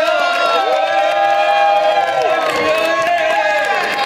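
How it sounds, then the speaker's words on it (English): An audience at a CES 2014 gadget event cheers and whoops in a loud, continuous burst of massed voices with scattered clapping. "Cheer for Lenovo!"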